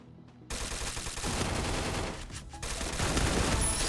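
Bursts of rapid gunfire from the Free Fire battle-royale game, loud and dense, begin after a short quiet start and continue as overlapping shots with no voices.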